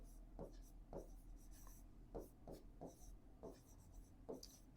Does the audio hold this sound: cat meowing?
no